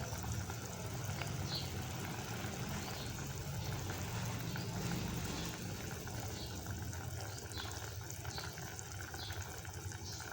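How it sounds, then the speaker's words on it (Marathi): A vegetable curry with moong vadis simmers in a pot, giving a low, continuous bubbling and rushing hiss with faint pops, steady and close throughout. "हे पा किती मस्तपैकी आपल्या भाजीला उकळी आलेली आहे"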